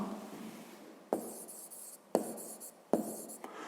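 A pen scratches across paper while a math answer is written out, with three short writing bursts, each starting with a sharp tap, close and clear with no voices.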